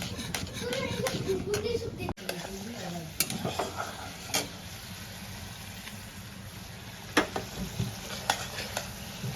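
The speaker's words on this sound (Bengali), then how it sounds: "টক দই আর কাশ্মীরি লাল লঙ্কার পাউডারটা দিয়ে আমি ভালো করে কষাতে থাকবো" A masala of spices, yogurt and Kashmiri red chilli powder sizzles steadily in a pan for a prawn curry, with a spoon scraping and stirring through it in close, uneven strokes.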